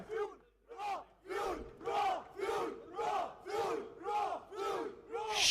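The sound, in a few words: esports crowd cheering squad screaming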